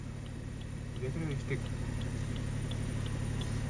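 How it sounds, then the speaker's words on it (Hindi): A three-cylinder engine on a Toyota Hyryder hybrid idles with a steady, low, humming drone and slight vibration throughout, while someone talks over it. "इंजन नॉइस आपको सुना दिया"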